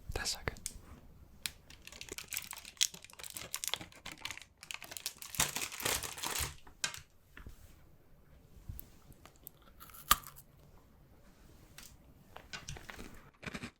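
Crunchy chocolate biscuits being bitten and chewed close up, crisp crunches and crumbly chewing in irregular bursts, with soft whispered talk in between.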